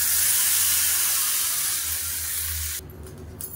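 Mustard seeds, cumin, curry leaves and asafoetida sizzle loudly in hot oil for a chutney tempering, a close, steady hiss that cuts off abruptly, leaving quieter clatter.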